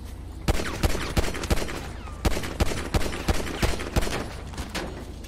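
Rapid gunfire in GTA 5 during a police shootout, a steady run of sharp shots, some spaced and some in quick bursts, loud and close throughout with no talking.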